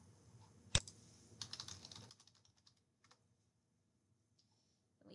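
Keystrokes on a computer keyboard while a search for a newspaper is entered, a quick cluster of soft clicks near the start followed by a few scattered taps, then quiet.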